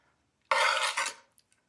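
A single close metallic scrape of a utensil against a pot while mixing and serving Puerto Rican rice with ground beef, about three-quarters of a second long, followed by a couple of faint clinks.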